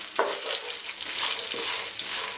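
Watermelon seeds sauté in a hot pan for laddu, giving a close, steady sizzle with light crackles and the scrape of stirring throughout.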